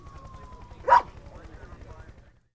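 A dog gives one sharp, close bark partway through, set against a faint low rumbling background that fades out near the end.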